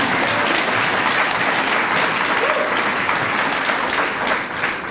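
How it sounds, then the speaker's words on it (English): An audience at a presentation during a showcase event breaks into sustained, even applause that fills the room for about five seconds before starting to thin out at the end. "Yeah, you can applaud that."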